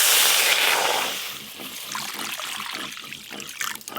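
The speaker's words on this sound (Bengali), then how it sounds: "এবার ডাল সেদ্ধর জন্য কড়াতে জল দেব।" Water is poured into a wok to boil lentils, a bright trickling and splashing that starts strong and then settles into a softer, steady dribble, close and alone without speech.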